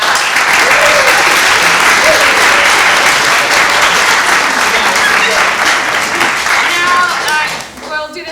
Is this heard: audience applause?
yes